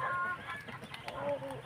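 A rooster on a farm gives short clucking calls, close and fairly clear, against light background noise over a brief stretch.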